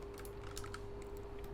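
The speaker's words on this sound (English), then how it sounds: "If I just press 7 on the keyboard just to go into lighting mode" A computer keyboard is tapped while modelling in Maya, giving faint, quiet key clicks over a low steady hum, with no voices.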